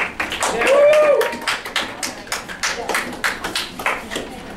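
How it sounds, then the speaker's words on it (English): A classroom of students claps for classmates' posters, a scattered patter of hand claps that starts dense and thins into separate, spaced claps, with voices in the room. "Let's clap up."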